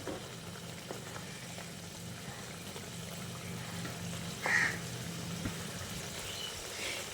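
Rui fish kalia, a Bengali fish curry, bubbling in a pan with a soft, steady simmering hiss and a low background hum, one brief louder bubble or clink midway, no voices.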